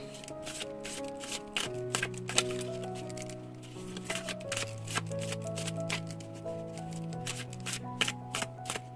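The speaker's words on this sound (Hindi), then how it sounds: "तो तीनों डेक में से 5-5 कार्ड लेके शुरुआत करते हैं आज के टॉपिक को" Tarot and oracle cards shuffled and drawn from three decks, with quick riffling and soft card slaps repeating over about nine seconds, close by, under steady tonal background music.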